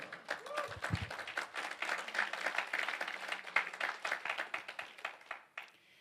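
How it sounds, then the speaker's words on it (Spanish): A church congregation claps together, a quiet but dense run of many hands that builds, holds steady, then tapers off near the end, with faint voices mixed in at the start. "Dar un aplauso al Señor."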